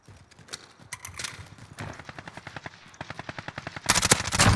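Rapid automatic gunfire rattles in a bomb-mode shooter video game, with steady bursts of close shots aimed at the player that grow louder and denser toward the end.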